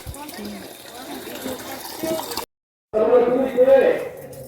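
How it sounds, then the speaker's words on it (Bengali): Water pours into a drum as it is filled, a steady rushing gush that briefly stops and then resumes louder, with voices talking over it. "মা একটুখানি জলগুলো ভরে নিচ্ছে আমার ড্রামটা ভরে নাও"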